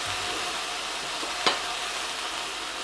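Beef steak sizzles steadily in an oiled frying pan as a soft, even hiss, with a single brief clack partway through and no talking.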